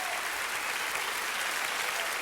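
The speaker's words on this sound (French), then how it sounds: "Applaudissez-le encore." Sustained audience applause fills a live variety-show stage, a steady dense wash of clapping at moderate level with no voices over it.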